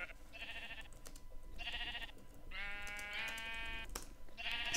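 Sheep on a Minecraft-style SMP game server bleat in a run of about four close, nasal calls, one after another with short gaps between them.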